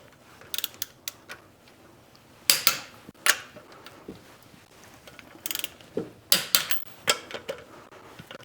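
Lug nuts on a Tesla Model 3 Highland wheel are tightened with a ratcheting tool, giving bursts of close, crisp clicking separated by short pauses.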